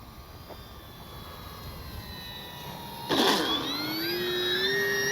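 An FMS Cessna Skylane 182 1500mm RC model airplane flying over a grass field in the evening, its electric motor a steady thin whine that swells and rises in pitch as the throttle opens midway.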